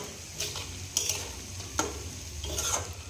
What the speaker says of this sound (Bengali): এবার ভালো করে ফুটিয়ে নেব আমাদের ডুমুরের তরকারি প্রায় হয়ে গেছে